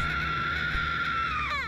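A male anime character from Classroom of the Elite lets out a long, loud, sustained scream that holds steady and then breaks off with a wavering tail near the end.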